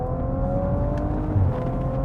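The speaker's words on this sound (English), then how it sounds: "you get more noise from the exhaust" Exhaust of a 2019 Audi RS4 in dynamic mode, a steady, fairly loud engine drone with a smooth whirring tone, heard briefly from inside the car.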